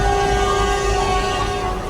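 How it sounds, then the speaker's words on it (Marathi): A local commuter train between Karjat and Khopoli runs along, heard from inside as a loud, continuous rumble with steady tonal hums and rattling carriages, no voices over it. "आता आपण कर्जतवरनं खोपोली जाण्यासाठी ही ट्रेन पकडली आहे."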